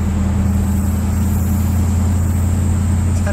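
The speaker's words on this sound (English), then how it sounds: "It's got stainless steel exhaust on it." A 1955 Dodge Royal Lancer with a stainless steel exhaust: a steady, rumbling engine drone with a deep low-frequency exhaust note, held at constant loudness throughout as if heard from inside the moving car.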